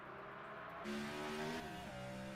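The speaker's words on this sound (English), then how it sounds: "I love the sounds of the V8 stock cars." Simulated V8 NASCAR stock cars race through a street circuit in a sim racing game. Engines snarl and rise in pitch as cars accelerate past, with a sharp rev jump partway through and no voices.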